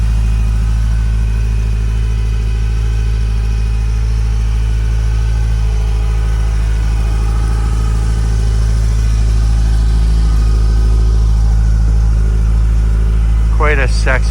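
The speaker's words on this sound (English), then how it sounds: "I'll do a quick walk around with the car running, so you can hear that idle from the various angles." A 1987 Ferrari Testarossa engine idles steadily with a deep, constant low rumble throughout, close and loud, with a brief higher chirp near the end.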